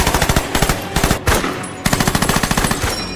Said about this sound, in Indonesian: membalas serangan tersebut dengan tembakan asal-asalan